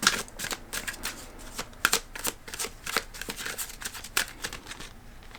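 Tarot-style cards are shuffled and drawn, giving close, crisp riffling and snapping flicks in quick uneven bursts over a quiet room, with no talking.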